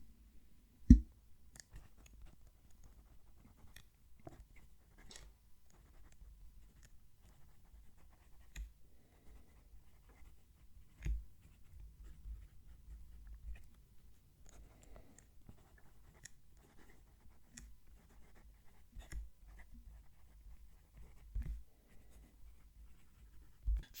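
An Opus 88 Koloro fountain pen nib scratches softly across paper in quiet, irregular strokes, faint and close, with small ticks where the nib lifts and lands again.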